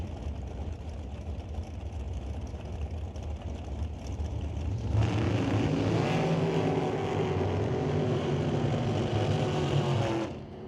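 NHRA drag racing dragsters, including Greg Dowdy's black and red Rad Torque Systems dragster, with a steady background hum that gives way to a loud, close engine roar with rising tones for about five seconds before cutting off.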